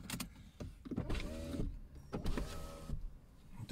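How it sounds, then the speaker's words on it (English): An electric car window whirs down in short motor bursts with pauses between them, close and fairly quiet, with the hum of the car interior underneath. "can you put the window down?"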